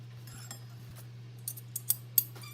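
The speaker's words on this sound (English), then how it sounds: "Okay, so we'll just trim that off" Scissors trim stray strings from scrap fabric, giving a few faint snips and then several sharper, louder cuts toward the end over a steady low hum.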